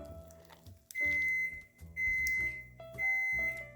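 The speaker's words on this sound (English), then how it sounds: "And that is the oven that has preheated to 375 degrees" Oven signalling it has finished preheating to 375 degrees, three loud electronic beeps spaced about a second apart in a quiet kitchen.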